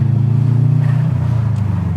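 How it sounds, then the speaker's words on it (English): Turbocharged EJ207 engine in a JDM bug-eye Subaru WRX STi rumbling loud and close from inside the car, with the pitch dropping as the throttle lifts and a fluttering turbo chatter. "It's got a big flutter."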